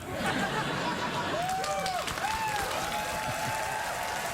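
Studio audience applause on a late-night talk show, sustained and loud, with cheering and crowd chatter mixed in and a few whistles rising above the clapping.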